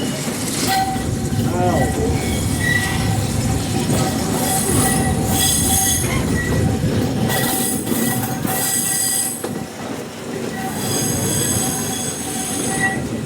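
The Walt Disney World Railroad train rumbles steadily along the rails in the evening with squealing wheels and rhythmic clacking, loud and close, with faint voices mixed in.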